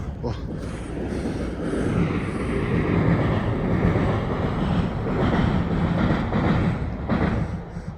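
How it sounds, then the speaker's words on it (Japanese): A loud, rumbling roar of a train crossing an iron railway bridge, sustained and heavy with broadband clatter, wind buffeting the microphone throughout. "ここ鉄橋があるから電車通るときなかなかの爆音なんですよね。"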